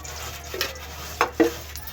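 A pan set on a stove for aloo chicken chutney kebabs being greased with a little oil, with a few light metallic clinks and scrapes of a spoon against the pan, close and quiet, no sizzle to speak of.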